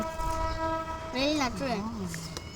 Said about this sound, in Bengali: ট্রেন আসতেছে ঢাকার দিকে যাইতেছে